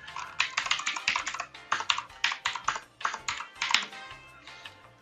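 Someone types a wireless network password on a computer keyboard during router setup, producing quick bursts of close, crisp key clicks in irregular clusters with short pauses between them.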